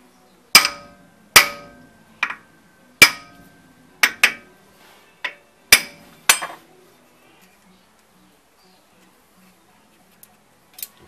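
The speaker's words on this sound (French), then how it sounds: "avec un marteau, on tape sur les méplats au-dessus pour sortir les rondelles." Sharp metallic hammer strikes on the wheel hub of a Land Cruiser HDJ80 to drive out conical washers, about ten close, ringing taps in an uneven rhythm that fade to silence with two faint knocks near the end.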